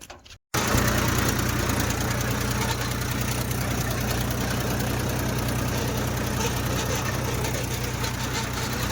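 A farm tractor engine idles and runs steadily, a loud, continuous low rumble with a faint knocking texture that starts abruptly after a brief quiet moment and holds at a constant level throughout.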